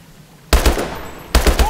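Automatic gunfire in a Call of Duty Advanced Warfare ambush: two loud, close bursts of rapid shots, the first starting abruptly after a quiet moment and the second following shortly after.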